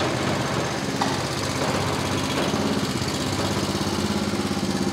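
The engine of a JCB tracked barrow with a leaking track motor runs at a steady close rattle, a continuous loud chugging drone with a brief clank near the start and no speech over it.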